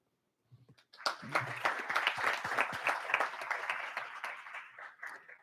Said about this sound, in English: So if y'all don't mind standing up so we can give you a round of applause